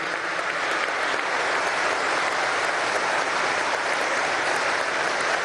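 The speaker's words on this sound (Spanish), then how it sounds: "un aplauso a todos los oficiales presentes" Loud, sustained applause for military officers at a Venezuelan government meeting, a thick, even roar of many hands clapping that fills the whole stretch without a break.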